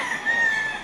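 Backyard rooster crowing in one short, loud, close call with a sustained tone.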